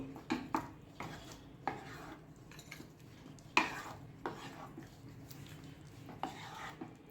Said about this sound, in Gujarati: હવે આપણે બધું સરસ રીતે મિક્સ કરી લેશું.